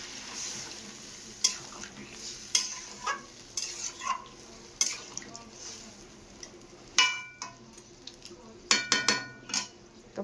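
Flour-based paneer curry with potatoes cooking in a pan after a little water is added: soft bubbling and sizzle with scattered clinks and scrapes of a spoon stirring, fairly quiet and close.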